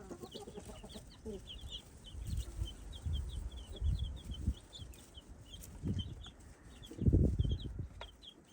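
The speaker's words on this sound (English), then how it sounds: "And so we're doing chicken ASMR" A backyard chicken flock, with a rooster and newly introduced chicks, clucks softly while high chicks peep in quick repeated chirps; low scuffling thumps come and go, with a louder bump of activity near the end.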